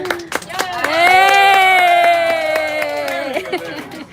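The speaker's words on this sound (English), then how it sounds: "Can you give her a couple of claps and hoops and hollers, please?" A trolley tour group in Savannah claps and whoops together for a few seconds, the burst of hands and cheers overlapping a strong, sustained voice-like tone that rises and holds before fading.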